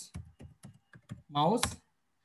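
Hashtags typed on a computer keyboard, six or so distinct keystrokes in an uneven rhythm, close and clear, followed by a short vocal sound.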